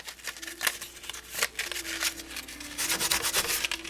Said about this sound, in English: you actually letting the 180 grit sandpaper do the cutting